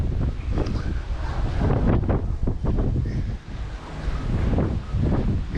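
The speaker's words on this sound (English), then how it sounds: "It's definitely a tad breezy." Strong wind blows outdoors at a house under renovation, a continuous loud rushing roar with gusts buffeting the microphone throughout.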